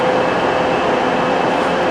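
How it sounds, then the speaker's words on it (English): A Class 319 electric train on the service to Crewe gives a constant, loud rumble and hum, with no break and no talking. "that class 319, is the 1801 to Crewe, which is my train"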